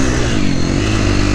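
A KTM 350XCF dirt bike, nearly stock with a power bomb header and tune, revs hard at full throttle, its engine note loud, close and continuous throughout the short burst.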